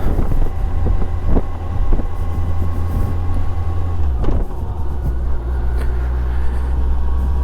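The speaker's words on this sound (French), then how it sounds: "J'aime beaucoup le bruit de cette moto." A Yamaha FJR 1300 ABS motorcycle engine while riding, a loud, low continuous drone that shifts pitch around a gear change, mixed with heavy wind buffeting on the microphone.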